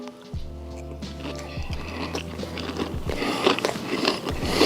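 A bite into a crunchy fried pork chop topped with gravy, a few close crisp crunches and chewing sounds over steady background hum, with no talk.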